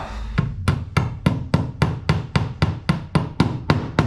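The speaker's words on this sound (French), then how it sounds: "Donc là, on peut l'enfoncer au marteau." A steady series of about eleven sharp hammer blows driving a wall anchor in, evenly spaced and close by, each a crisp metallic knock with a short ring.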